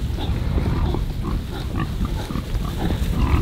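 Pasture pigs being walked across open ground by a farmer, with steady low grunting and snuffling from several animals close by, continuous throughout amid soft outdoor noise.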